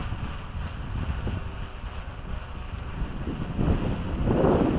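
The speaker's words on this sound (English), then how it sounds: "The wind's starting to pick up." Strong headwind blusters against the microphone of a WLToys V303 Seeker quadcopter flying FPV, a continuous low rumbling roar that grows a little louder toward the end.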